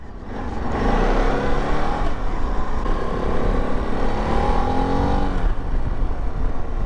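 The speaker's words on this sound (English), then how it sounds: "big lorry" A big lorry passes on the road past a riding motorcycle, a loud sustained rush of engine and tyre noise building and fading over several seconds, heard over the rider's own engine and wind.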